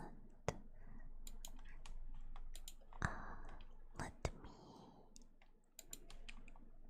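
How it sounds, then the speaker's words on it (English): Scattered, quiet keyboard typing in an ASMR setting: soft, irregular clicks and a few sharper taps over a faint background, with some whispered speech in between. "The keyboard sounds so cool. The ASMR keyboard."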